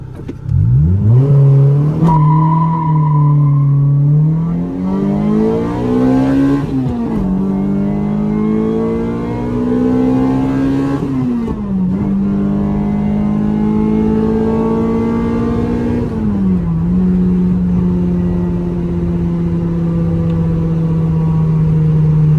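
A car accelerates hard through the gears, its loud, close engine note rising steadily, then dropping sharply at each of several upshifts before climbing again.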